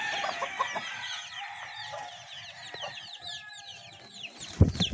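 Chickens waiting to be fed cluck and squawk constantly with scattered rooster-like calls, a busy flock close by, ending in a brief clatter.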